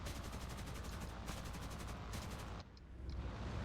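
Rapid aircraft machine gun fire from a Hampden TB Mk1 bomber in War Thunder, steady rattling bursts that cut off briefly near the end before resuming, loud and alone without talk.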